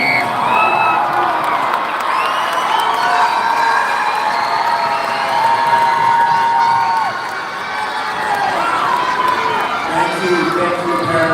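A graduation crowd at Okkodo High School on Guam cheers, whoops and claps for parents and families, a dense, loud, continuous wash of voices and shouting with applause blended underneath.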